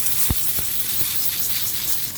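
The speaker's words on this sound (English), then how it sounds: "I go ahead and spray this off now." Compressed air hisses loudly and steadily as dust is sprayed off an old prebuilt gaming PC, with a few short bursts at the start before the spray holds constant.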